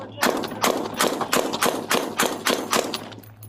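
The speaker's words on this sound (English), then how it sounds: "Shots fired, shots fired." About ten loud gunshots fire in a steady, rapid rhythm during a police shooting, sharp and close, with a constant low hum underneath.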